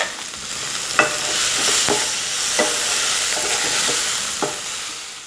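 Tomato sautéing with salt in a pan for semiya biryani, a steady hiss of sizzling under several sharp scrapes and knocks of a stirring spoon spaced through the clip, close and fairly loud, with no talk.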